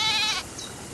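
A goat bleats once, a short wavering cry up close that cuts off abruptly and leaves faint background hiss.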